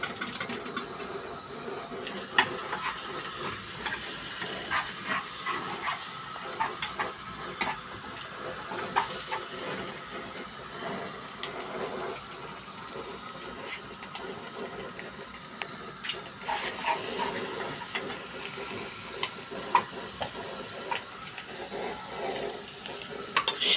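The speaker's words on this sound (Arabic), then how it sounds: "بعمل التقليه اهي، تومه وكزبره" Garlic and coriander fry in a pan for a molokhia taqliya, giving a steady low sizzle with scattered clicks and scrapes of stirring, fairly close and without talk.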